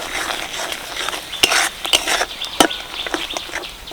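Salt, sugar and Kashmiri chilli powder being stirred into boiled tomato and garlic in a pan, with a scraping, clattering spoon and a few sharp utensil knocks against the pot, close and moderately loud without talk.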